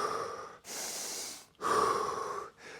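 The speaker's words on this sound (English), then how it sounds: "So that'll involve taking deep breaths in through your chest," Deep breaths drawn in through the chest and diaphragm, close and loud, with long airy inhales and exhales alternating and no speech.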